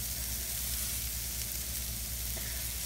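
Fish patties sizzle steadily in a hot frying pan as they are flipped, a continuous close, dense crackle of hot oil with faint scraping, and no voices.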